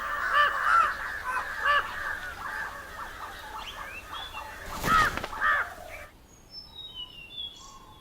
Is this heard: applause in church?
no